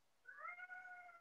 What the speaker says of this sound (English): Sorry about the cat meowing at the door.